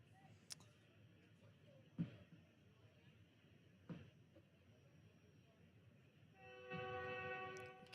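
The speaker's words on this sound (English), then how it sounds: "You can hear the train whistle going by" A distant whistle from a passing train sounds near the end of a high school baseball game, a sustained tonal blast over quiet background noise with a couple of faint thumps earlier.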